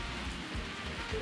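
Steady rain downpour in the farming game Story of Seasons: A Wonderful Life, a continuous broadband hiss of drops on surfaces that stays even and fairly loud throughout, with no voices.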